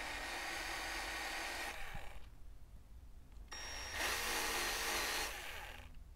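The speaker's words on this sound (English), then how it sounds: "Be careful not to spin the buffer too fast or you could burn it." A rotary buffer spins against a scratched DJI O3 Air Unit camera lens, a steady high whine that cuts off, falls quiet, then returns louder and brighter before easing near the end.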